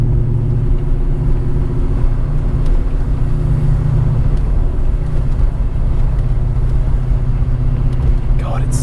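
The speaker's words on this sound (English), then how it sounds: "It's insanely noisy for an M5" A supercharged S62 engine in a crashed BMW E39 M5 on coilover suspension drones loudly and steadily from inside the cabin while driving, a dense low rumble with no pauses.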